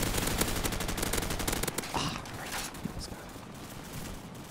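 Rapid gunfire from an M4 carbine in a shooter video game sounds as a dense burst of close, repeated shots over the first two seconds. Scattered single cracks and faint clatter follow.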